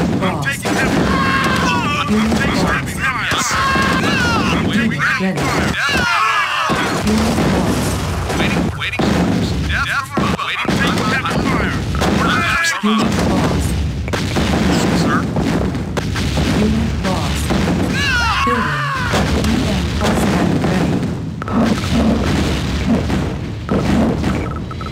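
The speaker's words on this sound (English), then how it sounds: "I'm taking heavy fire!" Heavy gunfire and artillery blasts in a 2v2 real-time strategy game, dense rapid booms and bursts of shooting throughout, mixed with clipped in-game unit voice responses over the battle noise.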